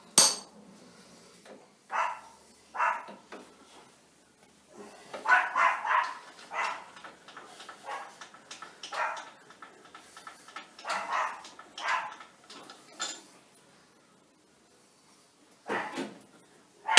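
A small dog yaps repeatedly next door, in short scattered bursts of barking that come and go over a quiet machine-shop background, with gaps of near silence between them.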